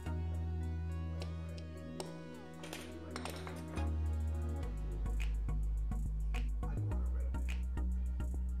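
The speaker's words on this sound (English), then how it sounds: "Sorry, that was my phone." A phone notification chimes with a few short, bright pings over a steady hum, heard during a polymer clay sculpting session with no talk.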